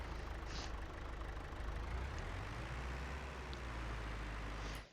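A slow, loud tractor engine in Farming Simulator 22 drones steadily with a deep, constant rumble and hiss for the whole stretch, with no voices, cutting off abruptly at the end.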